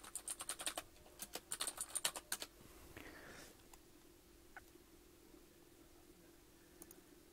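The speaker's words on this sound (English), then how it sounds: "it works in Notepad, so I can, for example, type some rubbish into Notepad" Rapid bursts of keystrokes on a computer keyboard while typing into Notepad, quiet and close, followed by a few scattered faint clicks and near silence.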